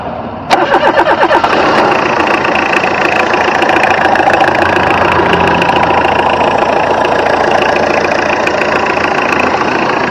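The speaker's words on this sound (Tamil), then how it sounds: "வாங்க வண்டியோட இன்ஜின் சவுண்ட் எப்படி இருக்கு அப்படிங்கிறத கேட்போம்." An Indigo car engine cranks briefly, catches, and settles into a steady, loud idle that runs on unbroken, close by.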